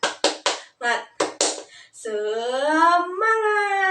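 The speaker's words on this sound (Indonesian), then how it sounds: "Ibu ingin kalian tepuk semangat supaya lebih semangat lagi" A lone teacher rehearsing a rhythmic spirit clap (tepuk semangat) for an empty classroom, with a few sharp, close, unevenly spaced hand claps, then a long sustained voiced call.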